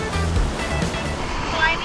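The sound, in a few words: lake waves crashing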